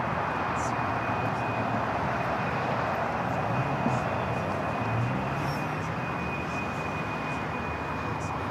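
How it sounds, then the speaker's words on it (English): Airbus A350 jet taking off from the north side of LAX, a steady broad engine roar holding loud and even throughout, with a faint high whine running above it and no voices. "A350 taking off on the north side."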